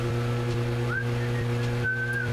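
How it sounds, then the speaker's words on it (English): A character in the video game Deadly Premonition whistles two short, rising notes, fairly quiet, over a steady humming ambient background. "Just whistling away, buddy, whistling away."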